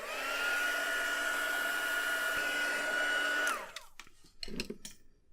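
A hair dryer blows steadily and loudly on watercolour ink on a stamped card, with a constant whine, then cuts off and winds down, leaving faint handling noises.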